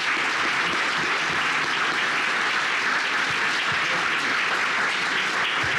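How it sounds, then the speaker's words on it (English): Sustained audience applause for a discussion panel at the close of an evening event, a steady dense roar of many hands clapping at even loudness throughout, with no talk over it. "I'd like to just ask the audience to give the panel here a round of applause"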